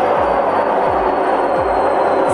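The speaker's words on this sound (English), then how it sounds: "this is what the washing machine sounds like" A washing machine runs loudly and roughly, as if about to take off, with a steady roaring rumble and a heavy rhythmic thump recurring roughly every three quarters of a second.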